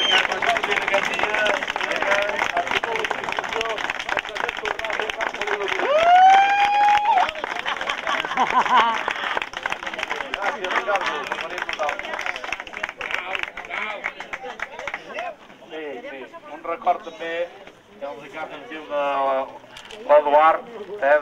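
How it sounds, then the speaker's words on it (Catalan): Audience applause at the 2009 Sant Feliu hill climb motorsport event: dense, sustained clapping from a crowd that fills the first fifteen seconds, then thins into scattered claps amid background noise. "Un aplaudiment per ell."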